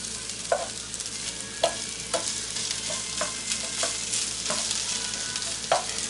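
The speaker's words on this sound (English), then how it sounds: "You just get the spatula underneath the" Sausage meat frying in a pan for sausage gravy, a constant bright sizzle broken by regular scrapes and taps of a spatula stirring and lifting the meat.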